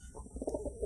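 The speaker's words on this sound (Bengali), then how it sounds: "দেখেন কবুতরের গম আর ধান খেতে দিছি, তারা সুন্দরভাবে খাচ্ছে" Pigeons fed wheat and paddy give soft cooing notes, faint and brief, over a low background rumble.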